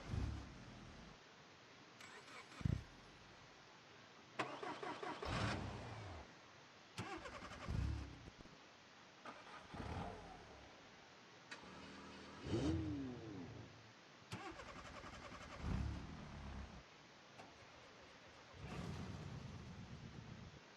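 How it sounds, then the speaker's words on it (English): Repeated car engine starts in the driving simulator BeamNG.drive: a starter cranks, the engine catches and revs briefly, then cuts out, several times in succession with short gaps. "custom ignition sounds for pretty much all cars. So here are some examples right here."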